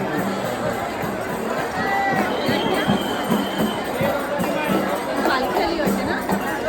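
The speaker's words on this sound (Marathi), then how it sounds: "बाबा कसली गर्दी आहे." A dense crowd of pilgrims at the Pandharpur temple makes a steady, loud hubbub of overlapping voices and footsteps close around, with scattered calls rising from the babble throughout.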